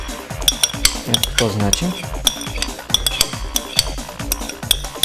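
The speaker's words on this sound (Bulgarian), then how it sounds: "Разбъркваме." A spoon clinks repeatedly against a bowl while stirring sour cream into yogurt, with a quick irregular rhythm of bright ticks and scrapes close up, and a voice speaks briefly over it.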